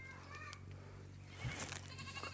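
A goat bleats once, faint and brief, over a low steady hum.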